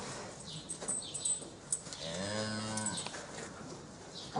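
A cow being treated for ketosis gives a single low, drawn-out moo in the middle, heard over faint background clatter and handling noise in a barn setting.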